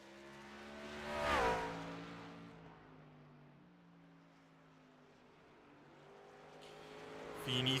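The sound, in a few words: Liquid Molly 38 race truck lapping Kern Raceway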